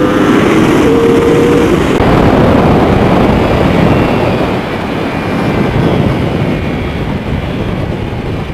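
A Yamaha R1 motorcycle engine drones loud and steady under throttle while riding in desert heat, a dense roar with heavy wind rush that eases slightly partway through.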